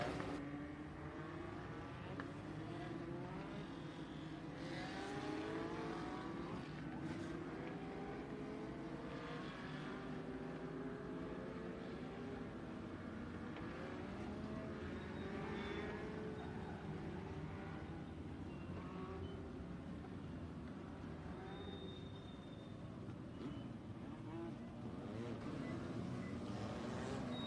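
Pack of race cars in an MLDS Legends feature at Benton County Speedway, a steady distant roar of engines droning together under broad crowd-and-track ambience, fairly faint with no clear passes standing out.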